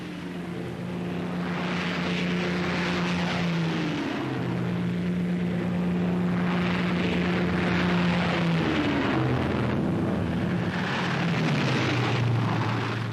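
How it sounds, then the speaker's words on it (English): WWII transport aircraft take off at dusk before the D-Day invasion, their propeller engines a loud, steady drone whose pitch slowly shifts and wavers throughout, with no voices. "the transports take off shortly before complete darkness"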